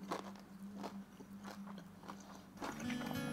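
Crisp crunching bites into a fried gyoza dumpling, a few sharp crackles spaced across a couple of seconds, close to the mic over a steady low hum.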